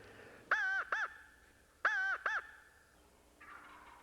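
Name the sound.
wild turkey gobbling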